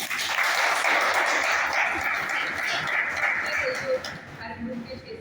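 Loud, dense audience applause fills a training session hall, sustained for several seconds before thinning out, with some voices mixed in near the end.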